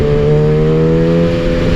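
Kawasaki ZX6R superbike engine held at high revs, a loud, close, steady high-pitched whine with strong harmonic tones that dips slightly in pitch toward the end.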